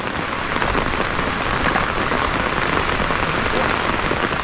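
Heavy rain pours down steadily onto surfaces, a dense, loud and continuous patter with no breaks, close by and filling the whole moment.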